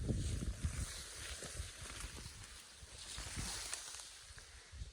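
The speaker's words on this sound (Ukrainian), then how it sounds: "Вітер дме" Wind blows across a field of winter wheat, a steady broadband rush with low buffeting rumble on the microphone throughout, with no talking.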